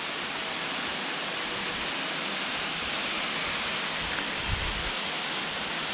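A waterfall across the road at Emerald Bay, Lake Tahoe, pours down in a steady broadband rush, a constant even roar heard from a distance with a faint low thump near the end.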